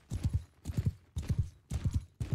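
Horses gallop in the Mount and Blade Bannerlord video game, a steady, close run of quick clip-clop hoofbeats in four bursts with no talking.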